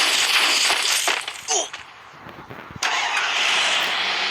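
A car in the video game Free Fire starts up and its engine revs, with a brief burst and then a steady mid-pitched drone behind the game sounds.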